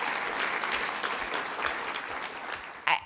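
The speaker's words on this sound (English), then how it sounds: "You can give them a round of applause if you want." Audience applause at a food and agriculture policy summit, a steady wash of many hands clapping that tapers slightly, ending with a sharp louder knock.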